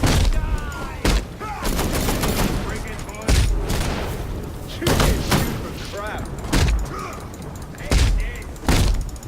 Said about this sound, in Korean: 총알 피하고 쌍권총 때리기